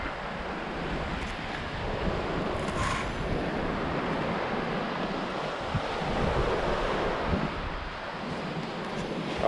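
Steady sea surf rolling onto a morning beach at Kalapatthar on Havelock Island, a continuous broadband wash with wind buffeting the microphone and no speech.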